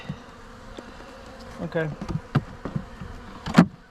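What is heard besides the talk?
honey bees buzzing around a beehive during inspection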